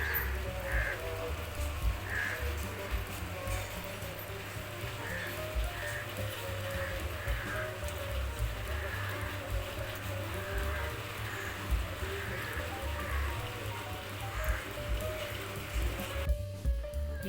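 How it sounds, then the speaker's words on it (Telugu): Steady rain falls across a home garden in a wet, cool morning, a continuous soft wash of drops with crows cawing intermittently in the background and no voices. "వర్షం పడుతూనే ఉంది."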